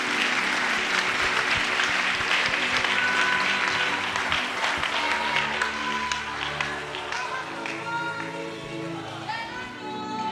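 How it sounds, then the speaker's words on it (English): A church congregation at a Tuesday celebration service breaks into sustained, dense applause that fills the room for about ten seconds, gradually thinning toward the end, with a voice faintly audible beneath it. "Clap for Jesus, she's free."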